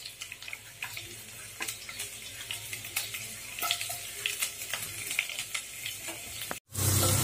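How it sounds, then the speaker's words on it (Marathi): Garlic added to hot oil with crackling cumin seeds in a kadhai for a Maharashtrian green moong dish, giving a steady close sizzle with stirring clatter, then a brief pause and a louder burst of sizzling at the end. "जिरे तडतडल्यानंतर लसूण टाकायचं आहे."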